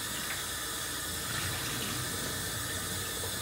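A kitchen tap runs steadily while chicken pieces are rinsed, giving a continuous, even hiss of water without a break.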